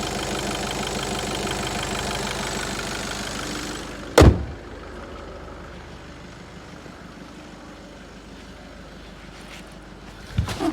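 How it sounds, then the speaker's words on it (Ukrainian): A 2017 Volkswagen Passat B8 engine idles with a steady, low mechanical hum, broken by a sharp thump around the middle and another clunk near the end, likely a door. "Мотор працює як часи."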